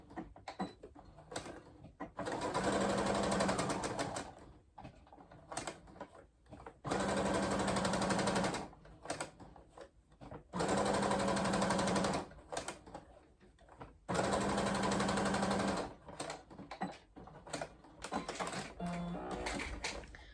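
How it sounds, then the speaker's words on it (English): A sewing machine top stitching around the edge of a fabric corner bookmark, running at a long stitch length in several steady bursts of fast rhythmic whirring, separated by short pauses and clicks, close and loud. "we're going to top stitch all the way around"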